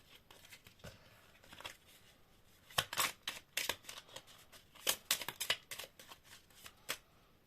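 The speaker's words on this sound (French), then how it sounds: "je vais tirer d'autres cartes pour avoir un peu plus de précision" Tarot cards being shuffled and drawn make soft, quiet riffles and slaps in irregular clusters of sharp bursts, close by and without any talk.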